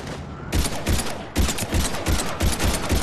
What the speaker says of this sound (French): Le lieutenant Vega est avec moi, mais on se fait canarder.